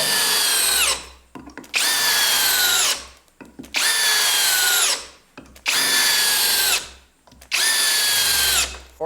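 A Dewalt cordless drill on setting 2 drives screws in five loud bursts, each a whining spin that slows as the screw seats, separated by brief pauses.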